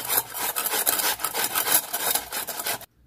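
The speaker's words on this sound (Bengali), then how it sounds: "এবার আমি লাউ দুটো ভালো করে ঘষে নেব।" Bottle gourd rubbed hard against a kitchen grater, a rapid run of coarse rasping strokes, close and loud, ending abruptly in silence.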